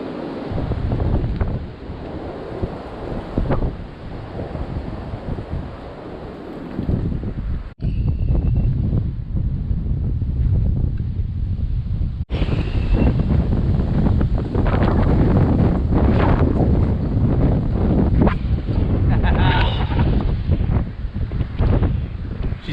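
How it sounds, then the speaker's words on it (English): Strong wind on a mountain saddle in Linville Gorge roars and buffets the microphone in heavy, continuous gusts, with a brief dropout partway through. "Cranking some wind out here."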